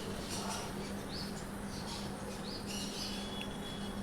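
Small caged finches, including Bengali finches, chirp faintly at a crowded weekly bird market in Garia, with a few thin, brief tweets rising over a steady low hum and background murmur.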